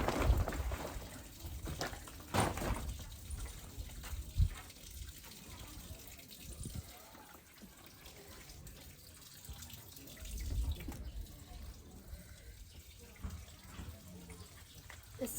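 Tap water gushes steadily into a washing machine to fill it, a continuous running flow with a few louder splashes, with faint voices in the background.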